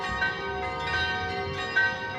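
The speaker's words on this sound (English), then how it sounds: "Sound the bells." Bells ring in a steady, resonant wash, with strikes recurring roughly every three-quarters of a second, moderately distant and sustained.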